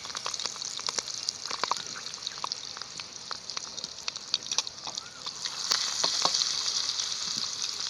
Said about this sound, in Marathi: मी तेल चांगलं गरम झालंय त्यात कढीपत्ता टाकून घेते कढीपत्ता तडताडला लागेल लसूण टाकते